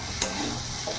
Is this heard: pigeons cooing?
no